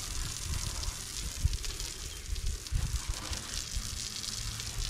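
Water is poured and splashed over a piece of cherry wood to wash it, giving a faint, steady watery hiss with a few soft splashes close by.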